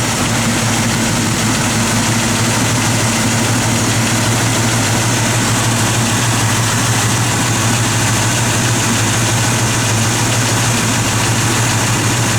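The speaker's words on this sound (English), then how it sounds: "Good running small block, 400." A 1969 Chevrolet Camaro SS with a 400 small-block V8 idles steadily close by, a deep, even rumble that stays loud and continuous with no voices over it.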